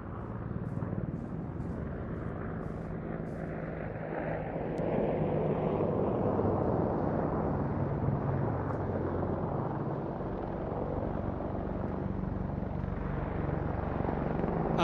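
A military gunship helicopter performing a display at an airshow, its rotor and engine roar building and shifting in pitch as it passes, loud and continuous, with faint crowd or wind noise beneath.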